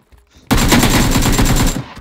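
A video game weapon fires one long, loud automatic burst for over a second. The burst is close and rapid and starts abruptly after a quiet lead-in.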